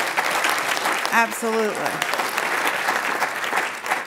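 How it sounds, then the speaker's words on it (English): A crowd at the Oxford House World Convention 2022 applauds, steady clapping running throughout while a voice speaks briefly over it. "give them a round of applause"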